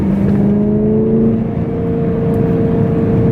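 A loud BMW S65 V8 engine in an E92 M3 drones steadily at close range, its pitch climbing slowly as it revs, with no talking.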